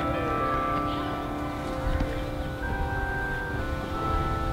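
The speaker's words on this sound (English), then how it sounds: "Those are some nice bells, dude." Church bells ring and sustain with long overlapping tones at a moderate level, a clear pitched hum hanging over rustling background noise.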